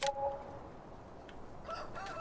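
Game chickens clucking in Farming Simulator 19, a few short fowl calls rising over a steady low background hum, moderately faint and with no talking.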